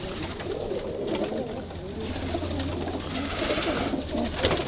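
Pigeons in a backyard coop, a flock kept after a hawk attack, coo softly and steadily throughout, a low continuous murmur with faint background noise and no talk.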